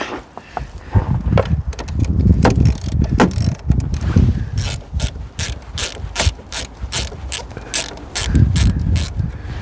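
Close, rapid clicking of a socket ratchet loosening the negative battery terminal on a 2018 Chevy Malibu in cold weather, coming in quick bursts of tight metallic ticks with some handling noise and no talk.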